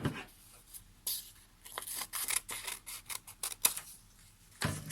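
Scissors cut through excess book page paper for a paper flower sculpture, giving a series of quick, close snips and crisp paper rustles with short pauses between cuts.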